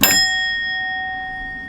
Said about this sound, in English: the official creepy hotel ring, or how do you call this, a bell or something